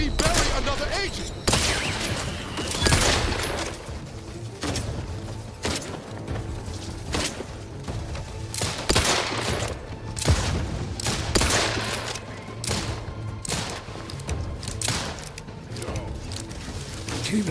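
Sustained gunfire in The Outer Worlds 2 combat: dense, repeated sharp shots and bursts cracking throughout, loud and close, with game voices speaking over parts of the fighting.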